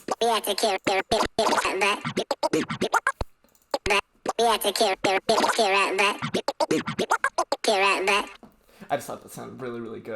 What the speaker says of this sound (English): like a scratchy sounding record chop that I also got from Splice